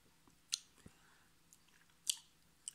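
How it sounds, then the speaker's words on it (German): Close, wet smacking and chewing from someone eating right at the microphone, a few crisp bites and squishy chomps spaced irregularly over a quiet room. "Ich schmatze wieder so laut in die Kamera, ins Mikrofon."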